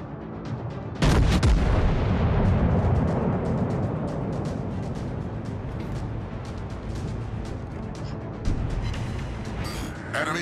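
Naval guns boom in World of Warships Legends: a heavy broadside blast erupts near the start and rumbles on, with a second loud salvo late, over continuous battle noise and a game voice.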